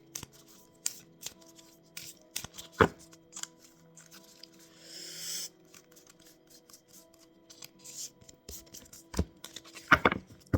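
Oracle cards shuffled by hand, with quick papery riffles, slaps and taps in irregular bursts, close-up and crisp, with a longer soft shuffle in the middle and sharper clacks near the end.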